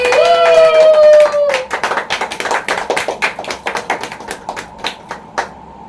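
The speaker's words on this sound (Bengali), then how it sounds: "হাততালি।" At a birthday celebration, a sung note trails off into a burst of hand clapping that starts brisk and uneven and gradually slows and thins out, close and fairly loud.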